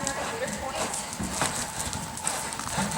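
Horse hoofbeats in a steady lope during barrel racing training, rhythmic clip-clop continuing close by under a rider's spoken voice and ambient arena noise.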